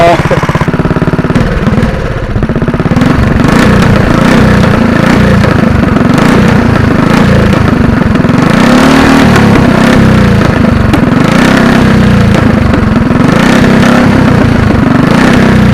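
A dirt track racing engine fitted to a streaker go-kart, needing a carburetor cleaning, revs loudly and close by in a couple of rising bursts over a steady rough idle.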